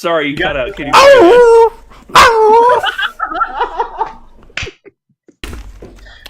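A voice imitates a punched baby chupacabra with a squeaky, guttural bark, loud and close, in a few yelping bursts broken by brief pauses, with talk at the end.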